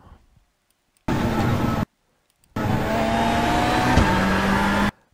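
A VW Beetle engine in the iRacing game, on the Daytona rallycross course, throttles up in two loud sustained bursts of engine roar separated by a short silence, rising in pitch as it accelerates.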